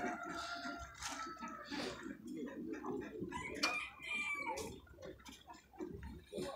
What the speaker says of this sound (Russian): петушки карликовые